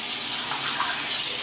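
Water runs from a tap for wetting the face before a shave, a steady close hiss of flowing water with no talk.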